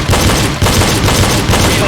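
Rapid pistol shots fired in quick pairs during a double-tap drill on targets crackle loudly in a dense, continuous burst with reverberant booms.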